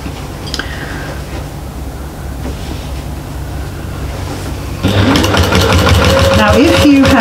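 A sewing machine stitches binding through all layers of a fabric bag, a steady close mechanical hum that grows louder near the end as music and other sound come in.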